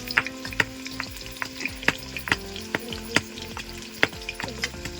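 Onion pieces fry in hot oil in a pan for Telugu fish curry (chepala pulusu), a steady sizzle punctuated by repeated clinks and scrapes of a stirring spoon against the pan, close and clear.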